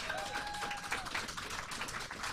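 A convention crowd at Dragon*Con claps steadily to cast a vote for Xenomorph, dense applause filling the room with a few whistles rising over it.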